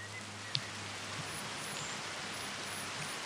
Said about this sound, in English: Now in the middle of a hailstorm.